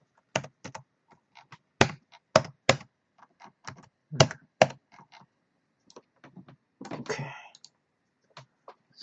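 Keys clatter in bursts on a computer keyboard that sometimes sticks, close and crisp, with irregular clicks and pauses and a short spoken word at one point.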